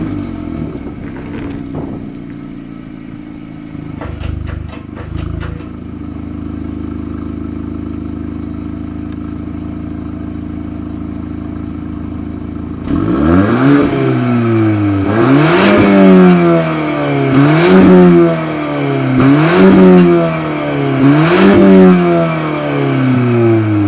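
A Volkswagen Golf R's engine idles, blips briefly, then revs repeatedly to about 6,000 RPM in a rhythmic series of sharp rising and falling pulls, loud and close, with no talking.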